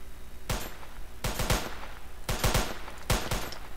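Semi-automatic gunfire in a video game: sharp single shots and quick double and triple bursts, loud and close, coming in irregular clusters over a steady low background hum.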